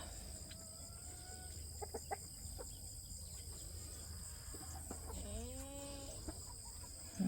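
Chickens and a rooster cluck and call on a farm, scattered short clucks followed by a drawn-out squawking call, faint and somewhat distant over steady insect hum.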